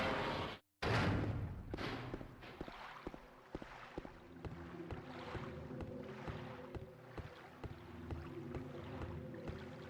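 A rowing boat glides across water in the Silent Hill 2 video game: regular oar strokes splash in a steady rhythm over a constant windy background, with a brief dropout near the start.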